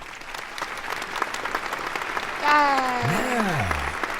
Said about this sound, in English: Clap louder.